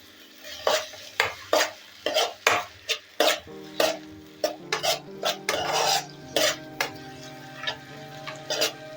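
Tomato paste and spices being stirred in a pan with a spatula, giving repeated close scraping and rasping strokes in a steady rhythm over a soft sizzle.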